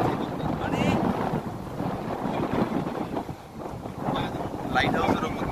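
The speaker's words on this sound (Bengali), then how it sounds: "প্রচন্ড হাওয়া দিচ্ছে।" Strong wind batters the top of a lighthouse on the coast, roaring continuously and buffeting the microphone up close. Faint voices can be heard now and then beneath the gusts.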